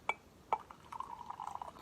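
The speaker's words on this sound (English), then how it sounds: "And now I'm going to pour the milk and the milk froth." Milk and milk froth poured onto espresso in a cup, two sharp glassy clinks followed by a soft, close trickling pour.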